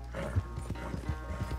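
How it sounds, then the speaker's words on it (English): A horse's hooves clip-clop in a quick, regular rhythm in Red Dead Redemption 2, close and moderately loud over a low rumbling background. "try making the horse jump over the fence to tire him out"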